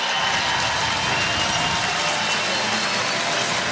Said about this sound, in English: Crowd appreciative of the whole thing.